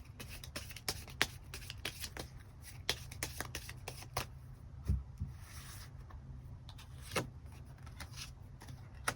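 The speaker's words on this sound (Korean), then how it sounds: "추가 카드 뽑아보도록 하겠습니다." Tarot cards being shuffled and drawn from the deck: a quiet run of soft, crisp riffling clicks and flicks repeating steadily across the stretch, with no talking.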